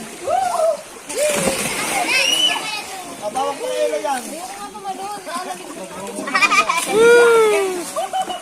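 Splashes of people jumping into water at Lipit Canyon in Baggao, with children's shouts and lively group chatter over the repeated splashing close by.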